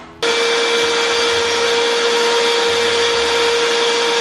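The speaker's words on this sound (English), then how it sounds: "so I've got my blender right here. This is a Vitamix." A Vitamix blender purees a mixture with lemon juice, starting abruptly and running at a steady, loud, high-pitched whirring roar for about four seconds before cutting off.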